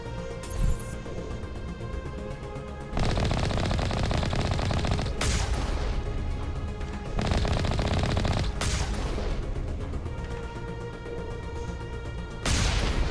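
Rapid, continuous automatic gunfire from the Mako vehicle in Mass Effect, loud and dense in long sustained bursts separated by brief gaps, with no talking.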